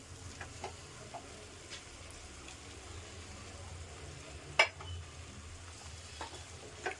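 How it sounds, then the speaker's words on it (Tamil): Mashed banana, semolina and milk being mixed into a snack batter with a utensil in a bowl, producing soft, faint scraping and stirring sounds with one sharp clink partway through. "நல்லா மிக்ஸ் பண்ணுங்கள்."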